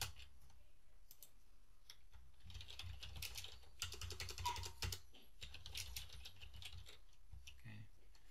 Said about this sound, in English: so you can just start typing